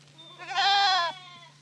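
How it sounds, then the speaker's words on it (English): A single goat among a large herd in a northwest Iowa pasture lets out one drawn-out, wavering bleat at moderate distance over a low, steady background hum. "Here at Dewey's pasture in far northwest Iowa, about 120 goats spent several weeks munching on about 22 acres of undesirable trees and brush."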